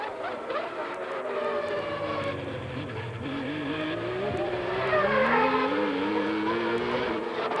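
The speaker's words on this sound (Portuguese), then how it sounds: "essa volta do Alesi, esta agora deve ser decisiva" Ferrari Formula One car lapping in qualifying at the 1994 Canadian Grand Prix, a high screaming V12 engine note rising and falling through gear changes, loud and continuous with no talk.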